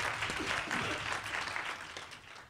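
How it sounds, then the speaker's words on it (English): Applause from an audience at a medical conference session, a brief burst of fairly faint, steady clapping that eases off slightly over about two and a half seconds. "And big applause"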